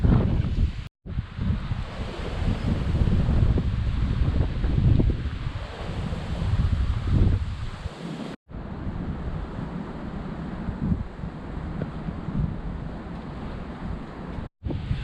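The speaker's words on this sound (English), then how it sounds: "It's really windy, I hope you can hear me." Strong wind buffets the microphone on Church Lane, a country lane near Meriden and Berkswell, a loud continuous roar and rumble with gusts, broken by brief cut-outs.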